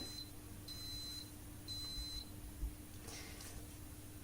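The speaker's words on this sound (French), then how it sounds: "Encore ce fer qui bip." Electronic beeping from a clothes iron during sewing work: several short, high, thin beeps set in a rough repeating pattern, faint over a quiet room hum, with no talking.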